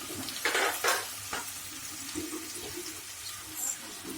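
Ingredients fry in a pan with a steady close sizzle as they are stirred, a few louder scraping strokes standing out early over the continuous hiss.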